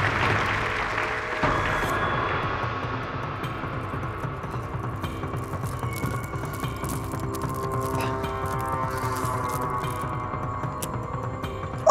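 An audience applauds after a dance performance at a staged show, steady sustained clapping under music that runs throughout, with a sharper burst early on.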